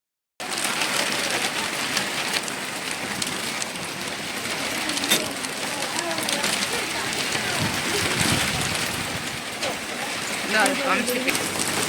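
Rain falls steadily after a year-long dry spell in a home village, a broad continuous hiss that holds evenly at close range from start to end with no voices.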